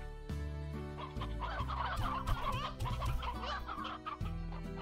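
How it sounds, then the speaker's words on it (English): Hens clucking in the video game Slime Rancher, several close, steady clucks and cackles over a bright looping game music bed, with no talking. "I have my hens now."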